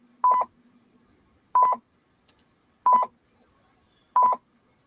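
Four evenly spaced telephone dialing tones, each a short clear beep about a second apart, heard close and alone over a faint background hum.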